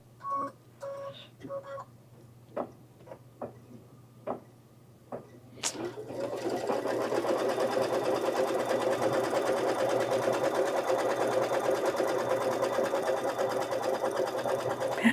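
Kimberbell quilt block being stitched on an embroidery machine: a few scattered clicks and taps at first, then the motor starts and runs a fast, steady, buzzing stitching whir for the remainder, moderately close.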